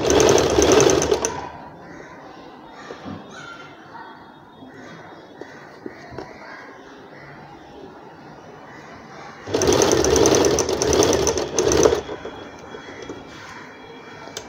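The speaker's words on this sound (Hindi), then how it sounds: "इसी तरह ऐसे कपड़ा घुमाते हुए इस पे भी इसी तरह गोलाई पे भी सिलाई लगाएंगे" Sewing machine stitching around the curved edge of an umbrella frock: two loud, close bursts of rapid rattling stitching, one at the start and one later, separated by a quieter stretch of fabric handling.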